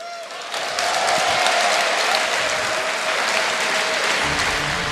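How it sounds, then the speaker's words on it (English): Sustained applause from a sizable audience at a StarCraft II tournament final, steady dense clapping that swells quickly and keeps going for several seconds. "You guys should give yourselves a round of applause."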